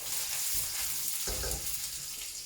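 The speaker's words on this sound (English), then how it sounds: "just burning my garlic, because I want this to cook really fast" Garlic sizzles hard in a hot pan with Brussels sprouts, a thick spring onion and grated carrot, a steady close broadband frying hiss with brief surges as the vegetables are stirred.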